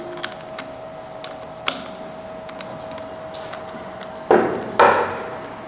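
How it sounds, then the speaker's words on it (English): A bicycle fork lower leg being tapped with a tool to loosen it, a few faint light taps followed by two loud close knocks near the end, over a low steady hum, no voices. "just tap on it until it comes loose"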